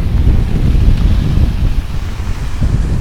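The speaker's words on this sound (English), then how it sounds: "Yeah, really strong wind." Strong wind rushes across the top of a ski slope, producing a loud, continuous low roar with buffeting against the microphone. No one speaks.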